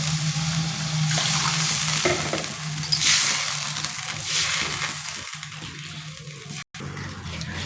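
Water is poured into sizzling masala in a pan for an egg omelette curry, giving a loud, steady hiss and crackle of frying that runs throughout without speech.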